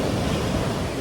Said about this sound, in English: What a beautiful, beautiful ocean right now. Just enjoying watching this waves,